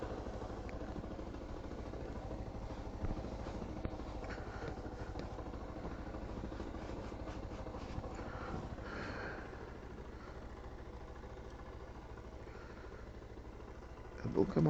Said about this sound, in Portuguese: É bom que a motinha vai esquentando um pouquinho, né?